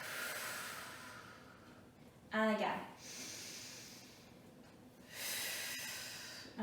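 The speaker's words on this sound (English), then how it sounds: "take a deep breath in through the nose and exhale through the mouth" During a Pilates session, a person takes a deep, hissing breath in through the nose and later exhales through the mouth, heard close up with a brief spoken cue between the breaths.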